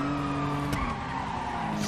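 A car in GTA Online revs and skids with tires squealing under a steady engine drone, close and continuous, with a sharp bump partway through.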